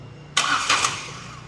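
A car engine is cranked briefly, a short burst of starter whirring in two quick pulses that cuts off without catching, close and fairly loud.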